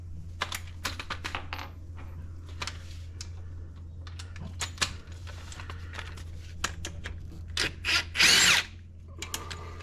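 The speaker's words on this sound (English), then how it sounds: "We're going to undo this bracket here." A power tool works a bracket bolt on a Holden Captiva front strut, giving short whirring bursts and clicks at close range, with a louder burst near the end.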